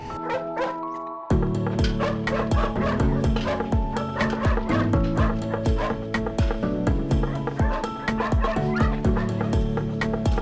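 Eight-week-old pointing dog puppies yip and bark in quick, overlapping bursts, close and loud, with high whimpers mixed in and a steady busy chorus throughout.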